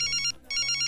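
A cell phone ringtone chirps close and loud, a rapid electronic trill that breaks off briefly and then resumes, with no voices over it.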